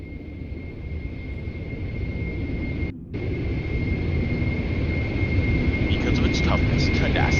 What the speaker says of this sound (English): a capability demonstration of the heavily fielded and effective close air support aircraft